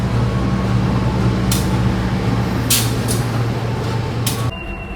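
Gajah Wong passenger train pulling out of Lempuyangan station at night behind an old, speed-limited locomotive: a steady, loud low engine rumble with a few sharp bursts of air hiss, ending with the drone dropping slightly.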